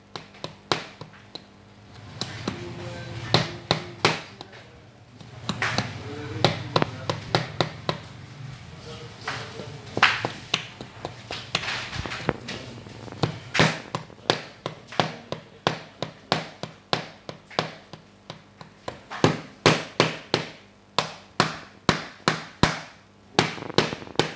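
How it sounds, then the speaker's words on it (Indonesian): Hammer blows driving a punch through a thick stack of paper for binding at a print shop, dozens of sharp loud knocks in irregular bursts, with someone talking in between early on. "ini dibantu dengan palu-palu supaya bisa tembus"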